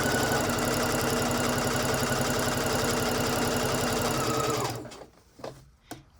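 A sewing machine stitches a narrow rolled hem in dress fabric, its steady rapid needle rhythm running loud and close for about four and a half seconds before stopping, followed by a few soft handling clicks.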